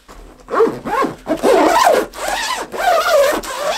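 A ukulele bag zipper being pulled in several quick, scratchy strokes, close up and fairly loud, with short pauses between pulls.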